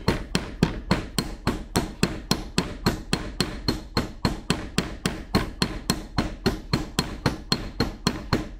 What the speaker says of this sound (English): I like to just go to town with my ball peen and just flatten her out